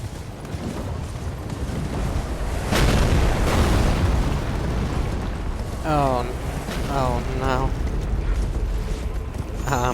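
Heavy booming explosions from a bombardment in Elden Ring, a loud rumbling barrage swelling in the middle, followed by a voice speaking over the continuing noise.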